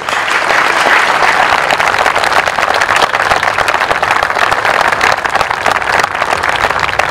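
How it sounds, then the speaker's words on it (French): Loud, steady applause from a crowd of bikers gathered at Porticcio for the blessing of the Madonna of motorcyclists before their ride, continuous dense clapping without pause throughout. "on peut les applaudir bien fort."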